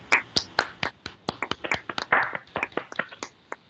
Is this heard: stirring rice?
no